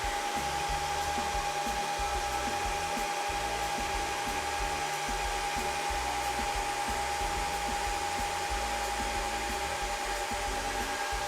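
An Antminer L3+ crypto mining machine runs steadily at full tilt, its cooling fans giving a loud, continuous whirring roar with a constant high whine riding on top, unbroken and with no voices.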